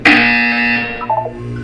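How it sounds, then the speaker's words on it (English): A loud electronic buzzer from the video game Portal 2 sounds in one sustained harsh tone, then breaks into a few short stuttering pulses near its end, with no talk over it. "You will hear a buzzer."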